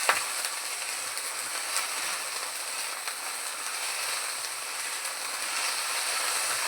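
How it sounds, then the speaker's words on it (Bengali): Food frying in a pan during home lunch cooking with rice, a steady close sizzle and crackle running evenly throughout with no talk. "এখানে ভাজা ভাজা হচ্ছে।"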